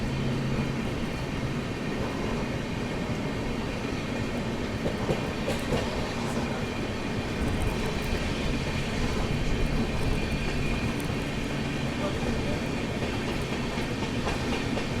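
A Mahabodhi Express passenger train picks up speed with a steady, dense rumble and faint clickety-clack of the wheels, heard continuously from onboard.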